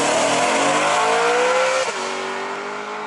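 A BMW E92 M3 with an automatic dual-clutch gearbox, driven on the street, revs hard under acceleration, its engine note climbing steadily before a quick shift drops the pitch and it pulls on, loud and close.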